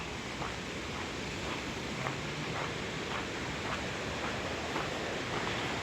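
City river rapids in Petoskey, Michigan rush continuously, a steady broadband roar of churning water heard from nearby with faint rhythmic surges.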